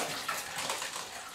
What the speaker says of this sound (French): lorsque je vais libérer le joint torique, je vais avoir un petit peu d'eau qui va couler